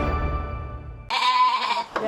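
A goat from livestock in Pringsewu, Lampung, where goats are dying from worm infestation, gives one loud, drawn-out nasal bleat after a low droning sound, followed by a short second call.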